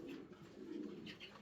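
A male Barhumar fancy pigeon coos softly and steadily at close range, with a few faint higher chirps from other birds in the background.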